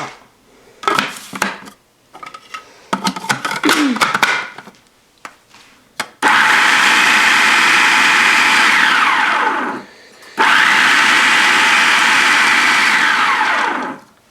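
Chocolate chip cookie dough with flour churns in an electric mixer: first clinks and knocks of utensils against a bowl, then two long, loud, steady whirring runs of the mixer separated by a brief stop.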